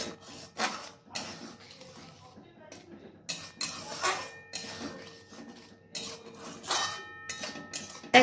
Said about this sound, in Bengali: এরপর আবার একটু নাড়াচাড়া করে নিচ্ছি